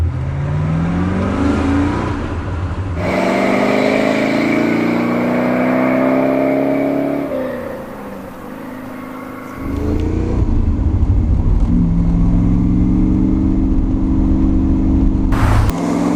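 A 1966 Chevrolet Corvette C2 with a 327 V8 engine runs and revs through several gear changes while driving, a deep rumbling drone that rises in pitch, drops, then climbs again, close and loud.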